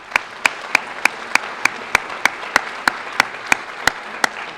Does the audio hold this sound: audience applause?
yes